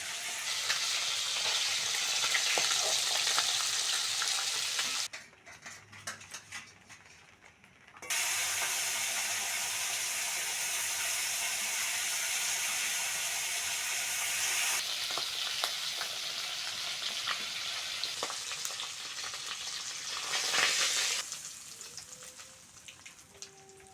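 Small chanda river fish fry in hot oil, giving a steady, close sizzle with scraping and clinking stirs. The hiss drops away briefly partway through, then resumes strongly, with no talk.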